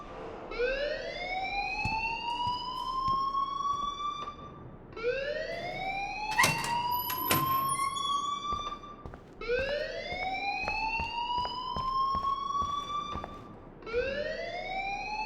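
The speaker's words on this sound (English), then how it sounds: "please turn off that alarm since that's your job" A school fire alarm from the video game Life is Strange wails in repeated rising sweeps, four cycles with brief gaps, loud and close, with some clattering beneath it.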